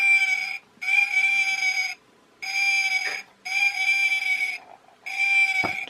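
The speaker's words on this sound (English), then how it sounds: "That's a little owl hooting sound effect, taken out one of those motion detector birds" An electronic owl-hooting sound effect from a motion-detector bird decoration repeats five times in even, evenly spaced bursts with short silences between, clear and close.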